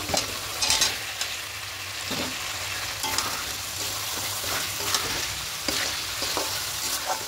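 Potatoes sautéed in spiced masala oil for aloo dum sizzle steadily throughout, with repeated scraping and stirring strokes of a spatula against the pan close by and no voices.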